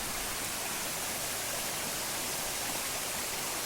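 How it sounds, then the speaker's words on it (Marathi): Loud, steady roar of rushing water from a large waterfall hidden in a forest, a dense unbroken hiss filling the whole stretch with no other sounds. "पाण्याचा आवाज होता पण आवाज खूप जोरात आहे आमका वाटलं मोठं मोठा धबधबा"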